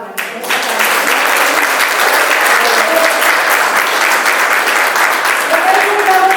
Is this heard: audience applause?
yes